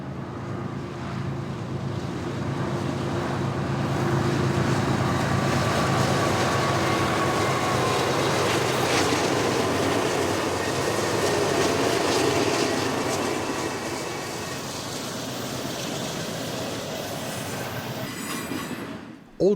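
An eastbound train rolls through Kingman, Arizona, with no horn. A loud continuous roar of wheels and cars rises, holds with some squealing, then eases off toward the end.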